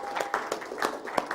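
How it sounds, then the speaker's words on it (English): Workshop participants applaud their facilitators in a short, sparse patter of distinct claps from a small group, fairly quiet and spaced unevenly. "Let's have a round of applause for our facilitators."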